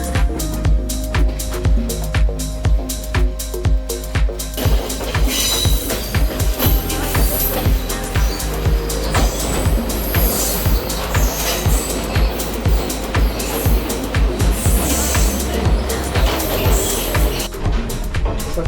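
Inside a second-class carriage of a Sri Lankan train, loud rhythmic clattering of wheels over rail joints mixes with squealing and rumbling, continuous and close throughout.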